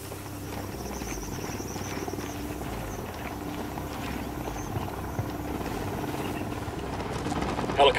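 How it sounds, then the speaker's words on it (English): A helicopter in the video game Ghost Recon Wildlands approaches with a steady, throbbing rotor drone that grows slightly louder toward the end, set against ambient insect-like chirping, with faint voices. "Helicopter inbound."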